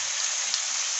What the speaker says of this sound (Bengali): আলু আর পেঁয়াজ ভালো করে লাল করে ভেজে নেব।